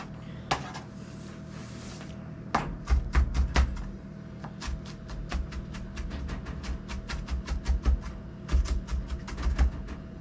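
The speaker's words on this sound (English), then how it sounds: "these onions are starting to be nice and finely chopped here, finely minced." A knife chops onions finely on a board, a run of sharp, close taps repeating in quick irregular bursts over a steady low background hum, with no voices.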